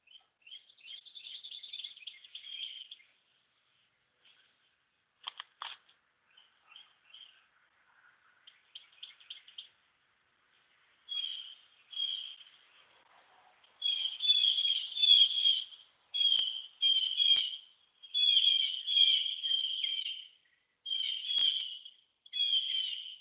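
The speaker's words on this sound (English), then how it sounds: "That's a pretty bird. Pretty song." A songbird sings outdoors in a quiet morning setting, starting with scattered faint chirps and building to repeated bright trilling phrases, clear and fairly close with no talking.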